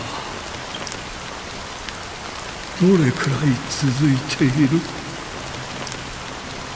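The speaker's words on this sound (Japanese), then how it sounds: "この雨は" Steady rain pours in a Honkai: Star Rail cutscene as a constant hiss. A voice speaks briefly over it near the middle.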